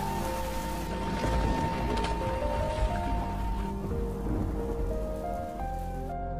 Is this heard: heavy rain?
yes